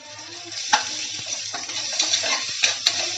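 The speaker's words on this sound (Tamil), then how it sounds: "இதோட பச்சை வாசனை போகிற வரைக்கும் வதக்கிக்கோங்க." Chopped onion with ginger garlic paste sautéing in a pan for beetroot biryani, a steady close sizzle with a few spoon scrapes and stirring knocks, no talking.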